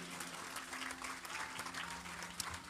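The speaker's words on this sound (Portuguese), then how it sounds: "aplauda ao Senhor." A church congregation claps together during a worship service, dense moderate applause sustained throughout, with a faint low hum of a sound system underneath.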